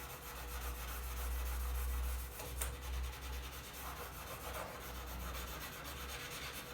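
Continuous abrasive scratching of fine sandpaper rubbed over Damascus steel knife blade, steady strokes at close range with no voices.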